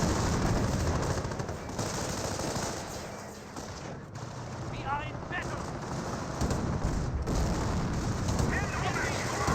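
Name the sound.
gunfire in video game Company of Heroes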